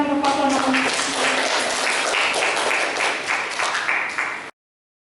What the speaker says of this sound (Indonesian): Tepuk tangan, beri tepuk tangan untuk paslon